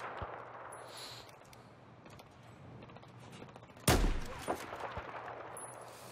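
A single sharp gunshot cracks out amid quiet ambient noise in Battlefield 4, followed by a few fainter pops and mechanical clicks.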